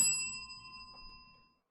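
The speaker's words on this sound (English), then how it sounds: "So I'm going to ring the bell for that." A single bright bell ding from the Hearthstone Duels video game rings out clearly, its pure tone sustaining and slowly fading over about a second and a half, with no voices over it.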